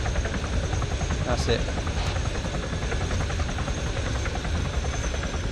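Helicopter in the Arma 3 video game, a twitchy aircraft compared with a Chinook, flying with a steady engine and rotor drone throughout, while a voice speaks briefly over it.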